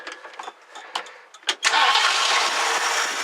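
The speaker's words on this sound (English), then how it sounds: "Fires right up." A 1969 Ford Club Wagon engine cranks with a few short starter bursts, then catches and settles into a steady, loud idle close by.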